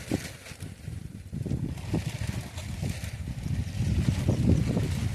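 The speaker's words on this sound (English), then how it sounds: "the wind destroyed the camp again" Wind gusts roar steadily across an outdoor survival campsite, buffeting the microphone with low rumbling surges that build and swell louder toward the end, with no talk.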